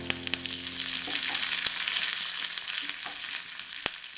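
Curry leaves crackle and sizzle in hot oil with dried red chili and onion for a Kerala breadfruit masala curry, a steady close frying hiss broken by sharp pops and spits, with no talking.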